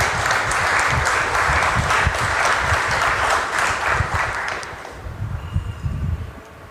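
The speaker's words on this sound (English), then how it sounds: "We welcome with an applause Shri Nilesh" An audience welcomes the speaker Nilesh Oak with loud, dense clapping that holds steady for several seconds, then thins out into scattered last claps near the end.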